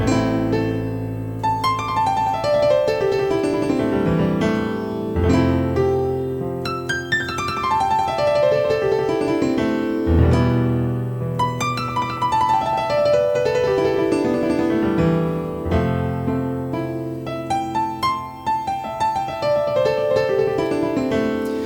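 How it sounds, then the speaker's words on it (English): Fast descending piano speed runs cascade repeatedly, each sweeping down the keyboard into a held chord, played loud and fluid. "my all-time favorite piano speed run or fast flourish"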